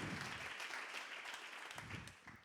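An audience at an artificial intelligence conference applauds, a dense steady patter of many hands clapping, faint and continuous for the whole stretch without voices over it.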